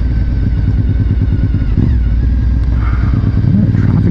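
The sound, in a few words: motorcycle riding on road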